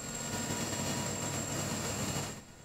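Twenty-cylinder Caterpillar engines driving landfill gas generators, a steady broad mechanical roar with a constant high whine running throughout, fading slightly at the end.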